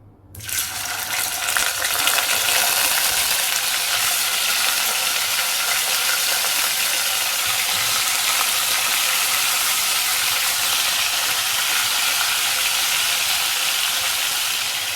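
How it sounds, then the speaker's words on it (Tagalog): Chicken frying in a pan of hot oil for a home-cooked chicken adobo, a steady loud bright sizzle that starts abruptly and keeps going without a break, with no voices. "We will now fry our chicken."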